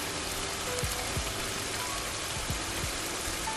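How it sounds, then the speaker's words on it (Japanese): Hot water from a kettle pours into a bowl of glass noodles in a home kitchen, a steady soft splashing hiss that runs unbroken at low level. "ケトルのお湯が沸いたので注いでいきます。"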